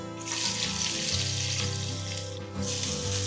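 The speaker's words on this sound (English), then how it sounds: "Fry till the onions are slightly golden in color." Sliced onions fry on a high flame in hot oil with cinnamon stick, green cardamoms and cloves, giving a steady close sizzle over a low background hum.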